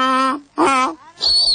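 A voice imitates a donkey's bray in three drawn-out, wailing bursts, loud and close, the last one higher and more nasal.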